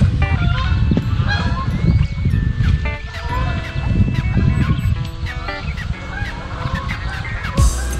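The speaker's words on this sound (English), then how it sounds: "Some geese." Geese honk loudly and repeatedly at close range at Mongaup Pond Campground in the Catskill Mountains, a flock calling over one another in overlapping bursts.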